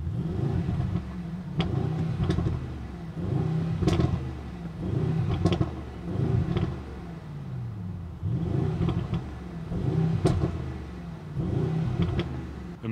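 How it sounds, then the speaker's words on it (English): Mercedes GLE V8 revving in rhythmic bursts, a deep rumbling engine note that swells and falls roughly every second or two, with sharp crackling pops and bangs punctuating the revs, moderately loud and close. "let's go ahead and listen to the sound of this V8 beast"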